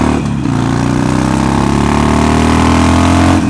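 A Harley-Davidson motorcycle engine revs hard and close, a loud sustained roar that rises steadily in pitch after a brief dip at the start.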